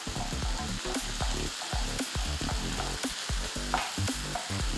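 Bolognese sauce with tomato sizzles and bubbles in a pan, a close, busy crackling fry with a dense run of rapid pops and spatters.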